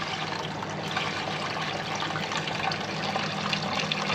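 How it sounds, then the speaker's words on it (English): Wort runs from the tap of a brewery tank during a West Coast IPA brew day at Dogs Window Brewery in Bridgend, a steady, close, unbroken rush of pouring liquid with no voices over it. "this tap will start to let the beer out"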